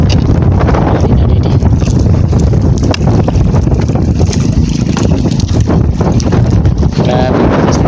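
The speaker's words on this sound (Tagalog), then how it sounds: "Grabe, lakas na ng hangin," Strong wind roars and buffets the microphone on a fishing boat at sea, loud and constant throughout.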